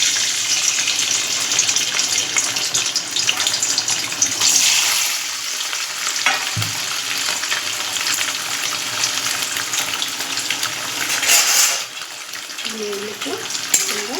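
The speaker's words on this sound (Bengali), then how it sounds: "পনিরগুলোকে আমরা ভেজে নেব হালকা লাল করে। এদিকে তেল গরম হয়ে গেছে" Paneer cubes fry in hot oil, a steady loud sizzle and crackle up close, with a clank of utensil midway and a brief stir near the end.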